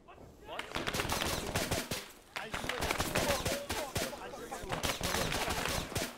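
Machine gun fire in the video game Arma 3, set in a Vietnam-era battle for Huế City: rapid, loud bursts of automatic shots crackle in dense volleys, broken by short pauses, with voices talking underneath.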